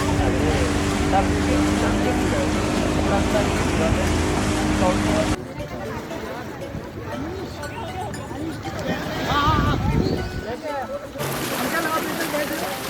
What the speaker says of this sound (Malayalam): സ്പീഡ് ബോട്ട് എടുത്തിട്ട് ആ കടലിൽ പോയിക്കൊണ്ടിരിക്കുന്നു